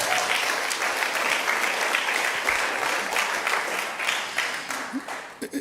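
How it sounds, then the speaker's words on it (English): A large congregation applauds a group honored at a Sunday celebration service ceremony, with sustained dense clapping at a steady loud level that thins into a few scattered claps at the end. "let's give them a round of applause now"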